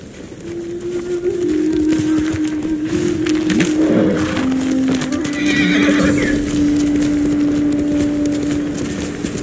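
A horse in the video game Ghost of Tsushima whinnies loudly with a long, wavering neigh, joined by steady hoofbeats at a gallop and a busy background of game noise.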